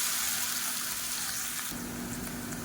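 Chopped onions with curry leaves sautéing in a pan for a Tamil-style egg curry, a steady close sizzle and hiss that brightens partway through, with no talking.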